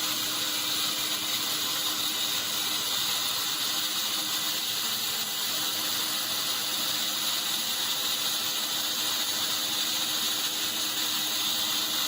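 A portable band sawmill running continuously, a steady high mechanical whir and rapid rattling buzz as the blade cuts through wood, no talking.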